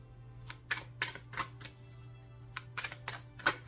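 Quiet, crisp riffling bursts of cards being shuffled, about a dozen quick flicks in an irregular rhythm over a low steady hum.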